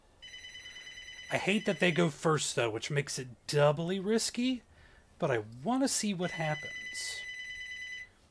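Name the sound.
telephone ringing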